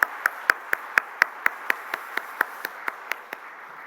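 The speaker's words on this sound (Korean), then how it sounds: "우리 다시 한번 박수하겠습니다" A church congregation at a Wednesday prayer service claps together in a steady, even rhythm, about four claps a second, with each crisp clap standing out clearly and fading slightly toward the end.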